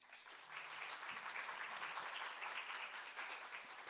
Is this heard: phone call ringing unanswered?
no